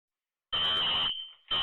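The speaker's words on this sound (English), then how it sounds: "So automatically you hear the fire alarm going off." A loud, shrill electronic fire alarm blares in a steady high tone, cuts out briefly, then resumes with the same piercing pitch.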